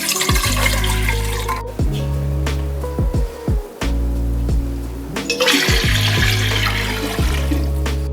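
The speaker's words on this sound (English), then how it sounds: "so I'm just adding more water." Water runs from a tap to top up a vase of flowers, in a close, loud gushing stream broken by a few brief pauses and splashes, with no speech.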